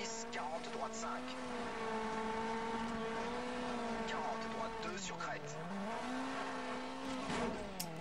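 A Peugeot rally car in the video game Colin McRae Dirt drives along with a steady, wavering engine drone that rises and dips, with faint background noise throughout.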